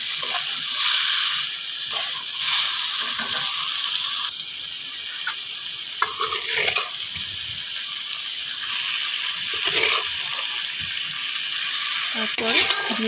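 Meat pieces fry and are stirred in a pan, giving a loud, steady hissing sizzle with intermittent scraping and clinking from the stirring.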